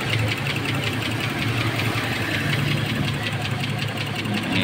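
A secondhand car's engine idles low and steady nearby, giving an even rumble with a fast, regular ticking pulse throughout.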